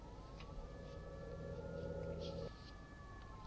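Police siren in the video game City Eye, a steady electronic wail with a sustained tone that cuts off partway through, heard faintly over background game sounds with no speech.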